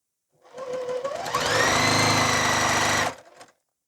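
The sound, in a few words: sewing machine sewing Hunter Star quilt blocks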